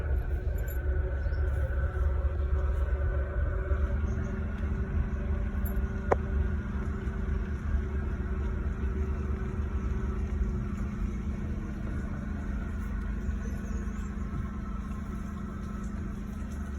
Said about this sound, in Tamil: எங்கள் அப்பா வந்து டிரைவ் பண்ணிட்டுருக்காரு காரை